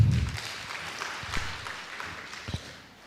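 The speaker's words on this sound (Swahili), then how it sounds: "Tumpigie makofi zaidi." An audience at an agricultural conference event in Tanzania claps together in a dense, steady patter that starts strong and slowly fades over a few seconds.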